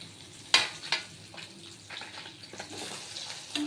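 Small puti fish frying in hot oil in a pan, a steady soft sizzle and crackle with a couple of sharper spits near the start, close by and with no voices.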